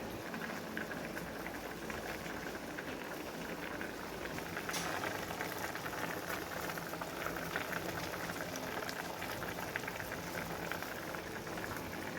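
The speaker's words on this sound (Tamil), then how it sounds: "பாருங்கள், நல்லா மீன் வேகுதுங்க" Paarai fish curry simmering in a pot: a soft, continuous bubbling and gentle hiss of boiling liquid, steady throughout, faint and close, no talking.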